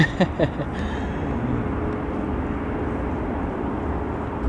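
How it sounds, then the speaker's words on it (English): An Embraer 190 jet on KLM flight 1921, fourteen years old, departs Amsterdam Schiphol for Zurich, a steady broad engine roar at moderate distance with a few sharp clicks near the start. "Embraer 190 to Zurich already going."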